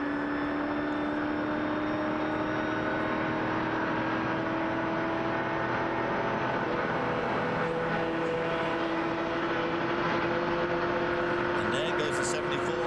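A race car engine at the 2004 24 Hours of Daytona drones loud and steady from onboard as the driver short shifts, its pitch holding fairly even with only slight shifts throughout.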